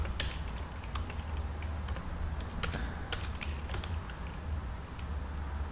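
Keys are tapped on a computer keyboard while a command is typed into a Fedora Linux console, a scattered run of light clicks at moderate distance over a steady low hum.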